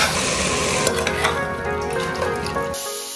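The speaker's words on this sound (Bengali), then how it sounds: "এবার এটাকে ভালো করে কষিয়ে দেবো" Ground coriander and garam masala sizzle and crackle in hot oil as the spice mix is sautéed in a pan, a dense close frying hiss with occasional stirring clinks, cutting off abruptly near the end.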